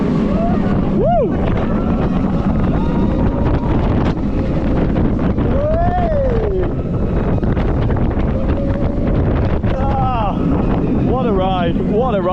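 Riding the Shambhala roller coaster at PortAventura World, strong wind roars over the microphone throughout, with riders shouting and whooping at several points above the rushing noise.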